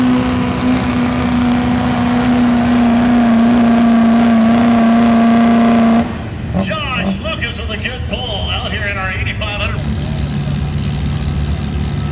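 A modified diesel truck roars at a 2010 truck pull in Turlock, a loud, steady, close engine drone holding for about six seconds before it drops away to a quieter, rougher rumble with fainter sounds of the event around it.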